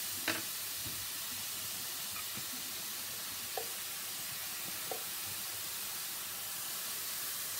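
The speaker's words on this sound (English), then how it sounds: "So I'm going to fry all that off." Red onion, chestnut mushrooms and a garlic clove frying in a pan, giving a quiet, steady sizzle with a few faint clinks and stirring sounds, no talking.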